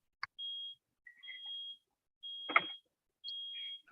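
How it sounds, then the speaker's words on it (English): An electronic gate gives a series of four clear, steady high-pitched beeps, each lasting about a third to half a second and spaced evenly, with a brief clatter partway through and no talking. "Who the hell's beeping?"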